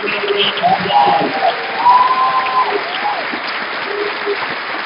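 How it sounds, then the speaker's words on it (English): An audience at a public speaking event breaks into sustained applause, a dense wash of clapping with a few faint cheers and voices mixed in, steady for several seconds. "let's give these folks another round of applause"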